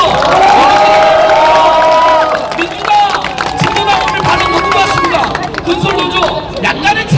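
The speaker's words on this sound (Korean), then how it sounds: "유튜브들에게 큰 박수 한번 보내주십시오" Crowd at an outdoor candlelight political rally in Seongnam cheers and claps, a loud burst of shouts and whistles that settles into sustained applause and babble.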